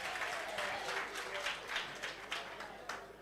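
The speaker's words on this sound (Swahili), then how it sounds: "Wapigieni makofi." Applause at a church gathering in Nairobi, a crowd clapping steadily at moderate distance, dense patter rising and falling over a few seconds with a voice faintly underneath.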